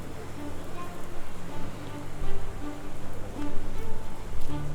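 Steady rain falling in the Sherlock Holmes: The Awakened game, a constant patter with soft drip accents throughout, moderately loud.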